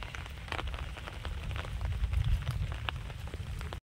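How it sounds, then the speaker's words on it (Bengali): Steady monsoon rain falls on surfaces near a garden and canal, a continuous dense patter with scattered louder drops, swelling slightly midway. "আর এই যে দেখুন বৃষ্টি কিন্তু পড়েই যাচ্ছে"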